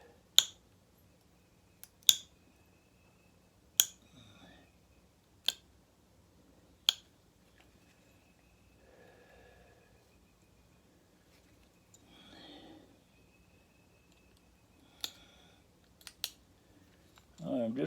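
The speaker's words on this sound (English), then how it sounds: "Trying to get these deltas off right now so it'll look straighter." Small flakes are pressed off a flint point, each one a sharp, crisp snap, about ten in all, spaced a second or two apart in near silence with faint murmuring in between.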